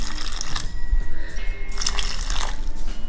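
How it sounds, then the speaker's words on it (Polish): Warm water poured into a bowl of dough mixture with oil, a steady watery splashing and trickling close by for about three seconds, with no talking. "na koniec dodajemy wodę"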